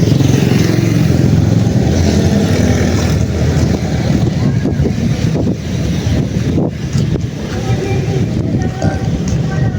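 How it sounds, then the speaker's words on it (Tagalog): Heavy wind on the Ternate bridge buffeting a microphone, a loud continuous roar with gusty rumbling throughout. "Mahangin."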